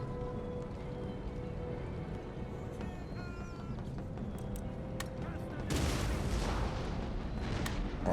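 Musket volleys from line infantry in Total War: Empire, heard as distant crackling fire over a constant battlefield rumble, swelling into a louder burst of shots toward the end.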